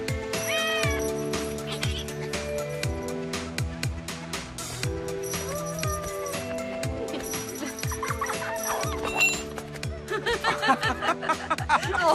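Cartoon cat meowing repeatedly during a whisker contest, amid a busy, cartoonish mix of clucking, music and quick comic sound effects.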